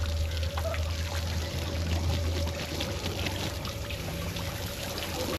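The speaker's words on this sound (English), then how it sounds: "topping off the water tank and rinsing off the boat" Steady splashing and pouring water runs continuously over a low engine-like hum as a boat is rinsed off.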